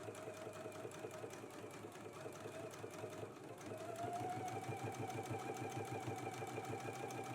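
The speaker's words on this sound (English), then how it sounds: "now let's go ahead and do a row of top stitching right here along the pocket opening." A sewing machine sews a row of top stitching along the opening of a lamb chop pocket, with a quiet, rapid rhythmic chatter that picks up and grows slightly louder partway through.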